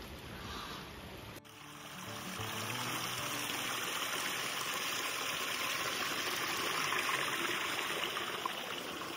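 Water pours strongly from the Font de la Cambreta, a mountain spring fountain, as a steady, loud rushing flow that swells after a brief opening and then holds constant and close, with no talk.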